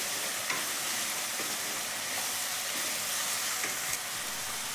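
Afghani chicken curry spices and kasuri methi being stir-fried in a pan: a steady, loud sizzle with soft stirring scrapes running throughout, close by and without talk.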